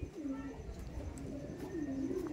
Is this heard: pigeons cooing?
yes